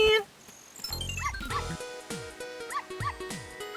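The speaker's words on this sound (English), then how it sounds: "it's kind of cool to hear the dogs barking during this" Dogs bark in short, bright yips in the video game Zelda: Ocarina of Time, repeating over a steady backdrop of in-game music and tones.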